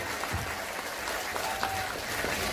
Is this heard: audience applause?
yes